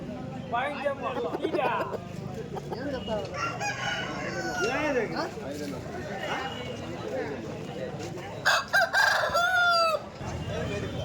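An Andhra breed rooster crows at a poultry sale, its calls rising clearly over a busy background of chatter and voices, with a few sharper crows near the end.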